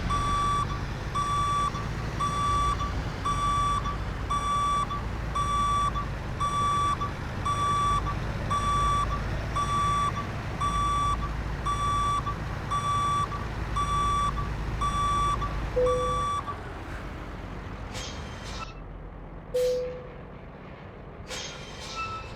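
Rhythmic truck reversing beeps sound steadily over a low diesel engine rumble while a Scania-style truck backs a trailer into a parking spot in a truck-driving video game; the beeping stops near the end, leaving a few brief air-brake hisses.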